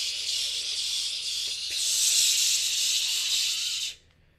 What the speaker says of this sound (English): Get that big bad bug with the bug spray.